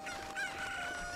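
Chicken in The Legend of Zelda: Ocarina of Time gives short clucking calls, close and fairly clear, over a steady game background hum with no one talking.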